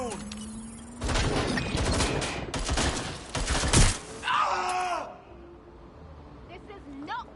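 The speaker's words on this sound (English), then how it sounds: "I'm getting shot at here." Rapid bursts of video game gunfire crackle loudly for a few seconds, followed by a screeching, whining effect and quieter trailing noises, with a voice speaking over the action.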